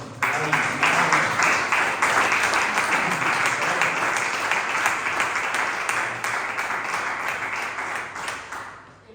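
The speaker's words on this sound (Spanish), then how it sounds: "dame un fuerte aplauso y ánimo" A crowd applauding steadily for several seconds at a church gathering, dense clapping that slowly thins and fades toward the end.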